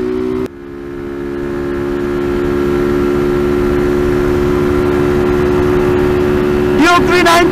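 An Apache RTR 200 motorcycle engine drones loud and close at speed on a highway, holding a steady pitch after a brief dip near the start, then wavering as the revs change near the end.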